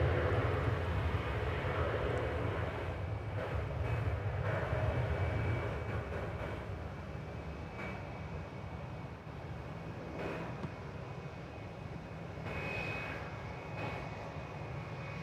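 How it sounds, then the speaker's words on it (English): Boeing 787 Dreamliner airliner on an Amsterdam-bound flight rolling along a DFW runway, a broad engine rumble that is loudest early and then eases to a steady, moderate drone with no talk. "we're bringing this Amsterdam-bound flight into sharp relief for you"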